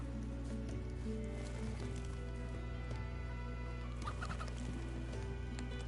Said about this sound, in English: Chicken, come into the light!